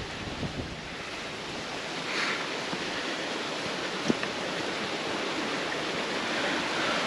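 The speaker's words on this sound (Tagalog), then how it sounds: "Tapos ito naman narinig natin tubig dito sa kabila." Steady rushing water flows nearby, a broad continuous hiss with light wind noise and occasional faint clicks, no voices.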